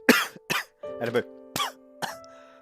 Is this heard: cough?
yes